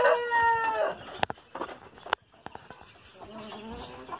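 A Silkie rooster gives a harmonic call, then a run of sharp clucks and food-calling notes, ending with another short call, all close by on a quiet farmyard with no talking.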